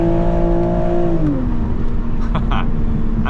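Toyota Supra 3.0 engine and exhaust drone loudly from inside the cabin with the window down, holding a steady note that dips as the car shifts, then settling into a steady low rumble while driving.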